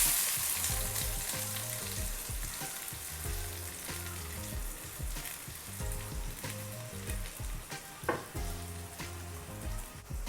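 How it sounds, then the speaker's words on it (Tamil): Small shallots with cloves, cardamom and cinnamon fry in a pan with a loud, steady sizzle and crackle up close. Occasional stirring clinks sit on top, and a pulsing music bed runs underneath. "இது கூட நம்ம கட் பண்ணி வச்சுருக்கிற சின்ன வெங்காயத்தை போட்டு பொன்னிறமாகிற அளவுக்கு வதக்கிக்கலாம்."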